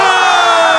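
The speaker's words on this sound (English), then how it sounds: "The crowd is going wild." A crowd at a Dinger City Classic baseball game cheers wildly, a loud sustained roar of shouting voices filling the short moment with no break.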